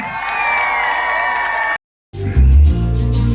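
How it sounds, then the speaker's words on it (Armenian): Loud crowd noise with cheering and applause fills the clip, broken by a brief silent gap before the roar returns even stronger. "եկեք բարձր ծափահարություններով դիմավորենք"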